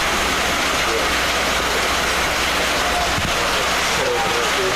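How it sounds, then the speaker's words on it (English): Steady rain falls on an open baseball field during an American Legion game, a constant broad hiss with faint pattering drops and no clear voices over it. "And the rain is starting to pick up a little bit more at Brewster Gunderson Field."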